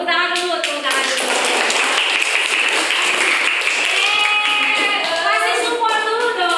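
A classroom of students bursts into applause, close and loud, many hands clapping in a dense, steady patter that lasts the whole stretch, with voices mixed in underneath.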